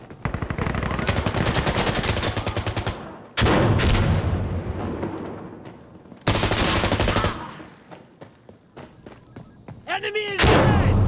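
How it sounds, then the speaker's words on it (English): Heavy gunfire and a grenade blast in Insurgency Sandstorm, on the Ministry map in team deathmatch: long sustained bursts of automatic fire, a sharp loud boom midway, then another burst, with shouted voices in between. "Throwing grenade!"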